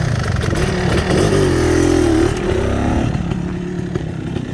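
A 2023 GasGas 500 BRC motorcycle, super tuned, idles loudly and close after its electric start, the engine note rising and falling slightly with throttle blips.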